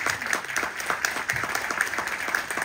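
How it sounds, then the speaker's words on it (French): Studio audience applauding in the large studio of a local radio station, a steady wash of many hands clapping at moderate loudness with no talk over it. "On peut l'applaudir très, très fort dans le grand studio de Radio Belcé, monsieur David Couvez."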